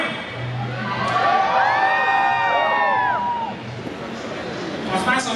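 A concert crowd at a Tsunami event in Mérida, Yucatán, shouts and cheers in a loud, sustained wave of whoops and high yells that swells, dips, then rises again.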